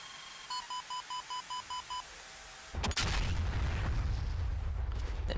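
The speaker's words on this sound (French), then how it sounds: "Le missile explosé sur notre cible." A missile blasts into its target in a flight simulator combat game: a run of eight short evenly spaced warning beeps, a brief pause, then a sudden loud explosion that settles into a sustained heavy rumble.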